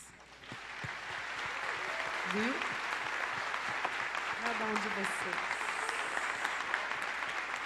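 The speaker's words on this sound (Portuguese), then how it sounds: "eu quero aplaudir ao Senhor pela vida de vocês" A church congregation breaks into sustained applause at a 13th anniversary celebration service, filling the room steadily while a voice speaks over the clapping.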